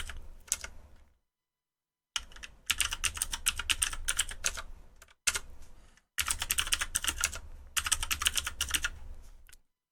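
Rapid, steady keystrokes on a computer keyboard while login details are entered during a Linux Lite install, close and crisp, in two long bursts broken by brief pauses and short silences.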